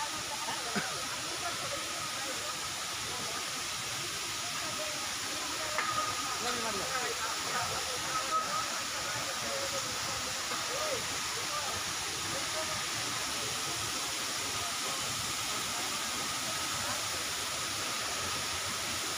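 Gundicha Ghagi waterfall gives a constant, even rush of falling water like a broad hiss that stays steady the whole time, with faint voices at times.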